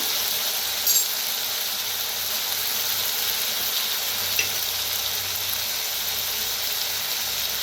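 Potatoes fry in oil with turmeric, red chili powder and green chilies, making a constant close sizzle with a couple of brief clinks and stirring knocks; no one talks.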